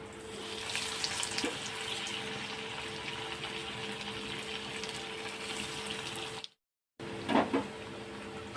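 Home-style chicken cutlets frying in oil give a steady, close hiss of sizzling that is broken by a brief silence. A clattering knock follows as the cutlets are turned.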